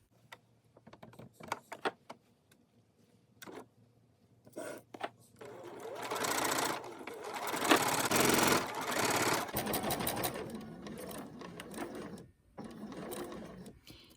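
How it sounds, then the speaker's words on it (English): A sewing machine stitches a half-inch seam on a scarf, starting with a few short bursts and clicks from pin removal, then running in a steady, fast mechanical whir for several seconds before slowing and stopping. "I'm going to go this direction and take my pins out as I sew"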